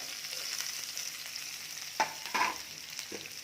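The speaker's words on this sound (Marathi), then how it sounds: "आता यामध्ये कांदा टाकूयात" Onion frying in hot oil with curry leaves and chili crackles in a steady close sizzle, with a couple of spoon scrapes and knocks against the pan partway through.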